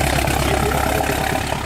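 A classic truck engine at the Schloss Dyck Classic Days event runs with a steady, loud, deep rumble and a fast low throb, heard close and continuous.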